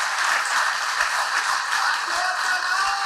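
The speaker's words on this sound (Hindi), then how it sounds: "हाथ की ताली।" An audience claps hands together at a religious gathering, a steady broad wash of applause sustained throughout at moderate loudness.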